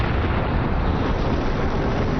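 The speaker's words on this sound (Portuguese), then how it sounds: "o universo sofreu uma grande explosão que arremessou o espaço para fora" An explosion effect standing for the Big Bang, a loud, dense, continuous roar of broadband rumble with no breaks, heavy in the low end.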